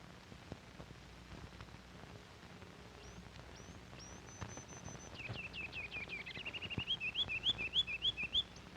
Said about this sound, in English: our senses are flooded with the clear, bubbling notes of the ruby-crowned kinglet. Then the more familiar songs of two thrushes, the swainson and robin,